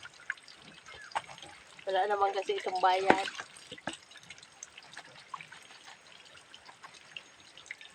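Tap water runs freely from an open, unclosed outdoor faucet at a laundry spot, a steady trickling and splashing that swells louder for a few seconds midway, with people talking over it.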